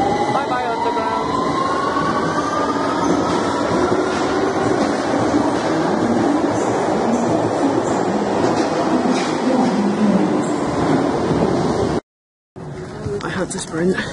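A London Underground train runs at speed, loud continuous rumble and rattle with a rising whine and track noise, briefly cutting out before resuming.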